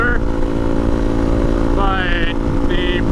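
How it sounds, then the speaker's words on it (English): A 2017 Honda CRF250L 250cc dual sport motorcycle with a cut factory muffler and baffles removed: a loud, steady exhaust drone running throughout, with faint higher whines rising briefly twice near the end. "I am constantly chased by dogs on this bike, because the exhaust is pretty loud"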